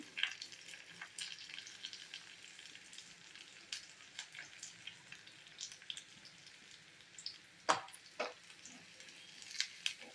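Asafoetida crackling in hot tempering oil after curry leaves, a soft steady sizzle at low level with scattered sharp pops, a few louder spits near the end.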